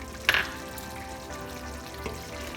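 Slit green chilies frying with chicken pulao over low heat, a steady soft sizzle close by with a sharp utensil clink near the start, no talking.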